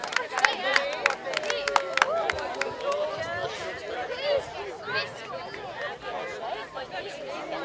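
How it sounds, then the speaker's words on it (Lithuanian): Outdoor Midsummer festival crowd clapping by a lake, a burst of scattered claps over lively chatter and babble, with a voice talking through the noise. "Palaikykit garsiais aplodismentais,"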